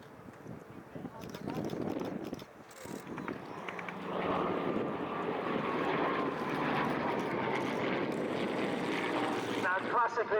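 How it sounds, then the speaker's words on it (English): A 1944 Spitfire Mark 8 warplane flies past at an air show, its propeller engine a broad rising roar that swells and holds, with a commentator talking over it. "That's a Spitfire Mark 8, built in 1944."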